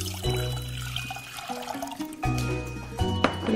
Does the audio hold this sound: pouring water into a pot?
yes